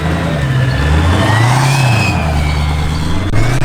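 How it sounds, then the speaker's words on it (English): A diesel-swapped Camaro making 1,500 lb-ft runs with a deep, loud engine drone while thin turbo spool whistles rise and fall above it, close and continuous. "All the Turbo spoolies sounds sound really good."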